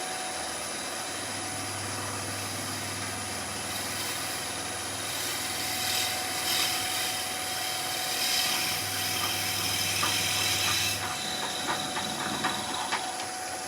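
A steady mechanical whir with a low hum that comes and goes, plus faint scraping and ticking, from a wood lathe spinning at about 1,000 rpm while turning a seashell or light pull.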